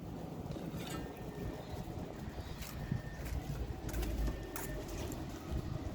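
Pigeons coo on a rooftop in the morning, soft calls scattered over steady breezy wind noise, with no talking.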